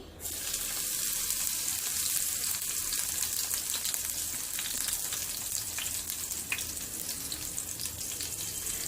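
Finely chopped green chillies frying in a couple of spoons of hot oil, producing a soft, even, continuous sizzle at low volume with a single faint tap partway through.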